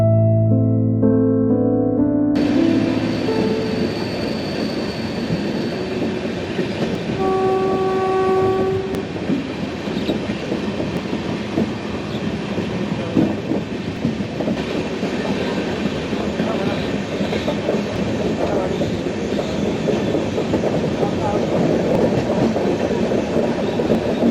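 A train runs steadily through the North Bengal hills, a continuous loud rumble and rattle of carriages with a short horn blast early on and no talk.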